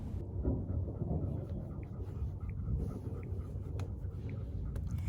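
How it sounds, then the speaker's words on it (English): Rain in a forest near the Grand Canyon, heard as a constant dense wash with low rumbling thunder underneath, moderately loud and unbroken, with scattered small ticks and knocks nearby. "Here come the thunder, here comes the rain."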